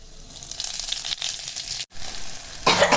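Hot chillies sizzle loudly in hot cooking oil, a steady crackling hiss that builds to a sharper burst near the end. There is no talk.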